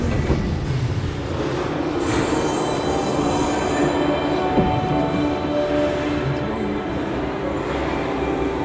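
The Mail Rail underground postal train runs through a tunnel beneath Mount Pleasant sorting office, heading east toward Whitechapel. Its loud, continuous rumble and rail hiss carry faint clicking wheel noise throughout.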